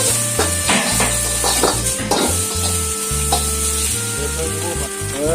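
Sliced onion and capsicum stir-fried in hot oil for egg Schezwan noodles, a loud continuous sizzle with repeated close scraping and clanking of a spatula against the pan.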